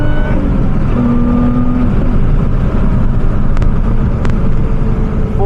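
A 2024 Lotus Emira under way, its engine a steady, loud droning hum with road and cabin noise, rising only slightly in pitch, plus a couple of faint clicks.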